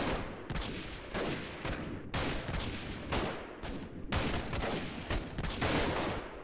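Gunfire in the video game Freeman Guerrilla Warfare during a city siege: repeated loud shots and bursts overlapping in a dense fusillade, close and continuous, with no speech.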